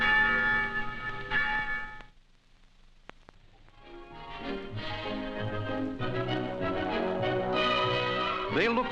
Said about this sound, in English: On town meeting day, the church bells bring the people out.